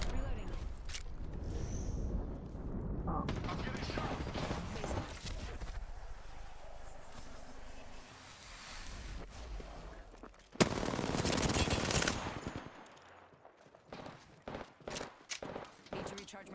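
R99 submachine gun and RE45 pistol fire in Apex Legends, bursts of rapid shots rattling in and out beneath steady talking, with a loud dense volley near the end followed by scattered single shots.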